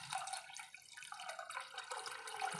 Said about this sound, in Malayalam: നമുക്കിതിനകത്തോട്ട് കുറച്ച് വെള്ളം ഒഴിച്ച് കൊടുക്കാം കേട്ടോ.